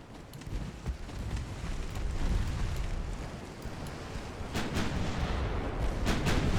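Naval 9-inch guns fire in Ultimate Admiral: Dreadnoughts, an 1890-era Italian fleet battle, booming in a rumbling sequence of heavy detonations that swell and overlap, with several sharper reports near the end.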